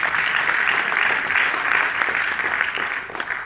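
Audience at a talk on a just transition framework and sustainable prosperity claps steadily, a full, even round of applause from a seated crowd that holds its level and tapers slightly toward the end.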